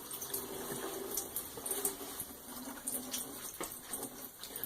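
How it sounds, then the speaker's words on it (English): Tap water runs steadily into a sink as cooked pasta is rinsed in a strainer, a continuous moderate splashing hiss with small clinks, fairly close and without talk. "rinse our pasta."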